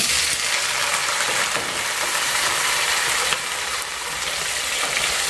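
Small onions (shallots) hiss and crackle as they fry in a pan, a steady close sizzle running through without pause, with no voices over it.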